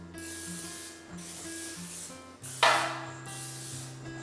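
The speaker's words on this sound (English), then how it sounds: "I have my 9x13 cake pan that I'm just going to spray down" Cooking spray hissing onto a 9x13 cake pan in several bursts, each about a second long, with one sharper, louder spurt near the end, close up and with no voices.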